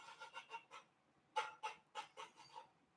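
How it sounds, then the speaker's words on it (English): A rooster clucking in a quick series of short, fairly faint calls, one burst of several notes, a brief pause, then another run of clucks. "That's the love sound of the rooster."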